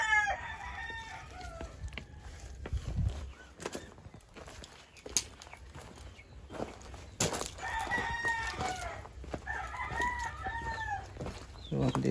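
Rooster crowing with hens clucking nearby, several calls spread through the clip over a steady outdoor background, with faint footsteps at times.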